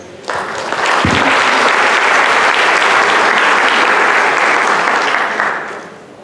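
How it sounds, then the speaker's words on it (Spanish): Loud, sustained applause from an audience at a dental inter-institutional committee academic session, rising sharply and filling the room for about five seconds before tapering off at the end. "Para ellos les pido por favor un fuerte aplauso."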